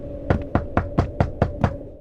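Seven evenly spaced knocks on a door in The Wolf Among Us video game, crisp and fairly close, with a steady low background hum and no talking.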